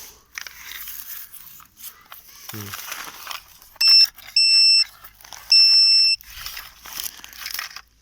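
Several short, steady electronic beeps from a metal detector on a beach, a high tone repeating three times over a few seconds, with rustling and digging noises around them.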